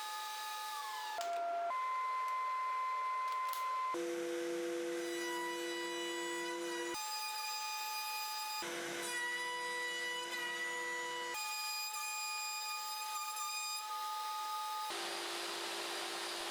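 Saw cutting MDF under a dust hood, a loud constant whining drone with shifting tonal pitches as the cut and dust extraction change, running unbroken without speech.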